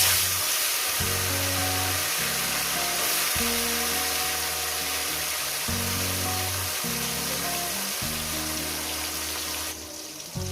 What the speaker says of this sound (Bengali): কাঁচকি মাছগুলোকে আমি সুন্দর করে ভেজে নেব